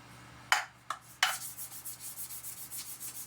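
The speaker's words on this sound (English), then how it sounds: "Start polishing." Aluminum being polished off a steel rod during a 10 hp Briggs & Stratton generator rebuild: a few sharp scraping strokes, then a steady rhythmic rubbing that repeats about three times a second, close and fairly quiet.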